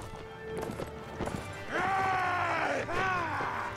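Hoofbeats of a galloping horse in the PC game Mount & Blade Warband, a rapid clip-clop under battle noise with whooshing, groaning cries from combatants, fairly close and steady.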